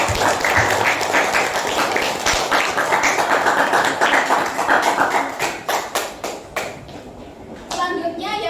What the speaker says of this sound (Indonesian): Silakan anak semuanya memberikan tepuk tangan untuk kelompok